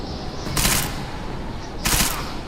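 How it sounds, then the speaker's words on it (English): Gunfire in a video game, heard as two loud, close bursts of rapid shots with a continuous rumble and noise underneath, and no talking. "الضرب ده جاي منين؟"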